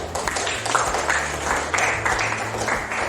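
A classroom group claps for a student presenter in a school lesson, steady broadband clapping that runs the whole stretch at moderate loudness, with a low hum underneath.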